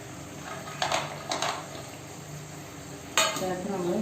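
Ghee-fried coconut, cashews and banana stirred into a date payasam, a few soft scraping and clinking spoon strokes against the pot over a steady low kitchen hum, with a louder stir near the end.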